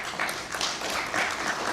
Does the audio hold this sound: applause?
yes